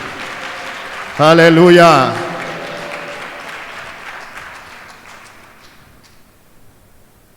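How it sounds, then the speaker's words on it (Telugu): A church congregation at a Saturday service claps together in a loud burst that fades into scattered clapping and room noise. A voice calls out over the start of the clapping. "చప్పట్లు కొట్టి యేసు నామాన్ని గణపరచండి"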